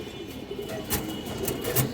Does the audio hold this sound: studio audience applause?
no